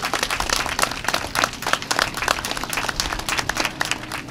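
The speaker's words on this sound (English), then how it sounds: "Let's give all of them a round of applause for their service" Applause from an audience at an elementary school Flag Day celebration honoring veterans, dense steady clapping that runs throughout, fairly close and even in level with no voice on top.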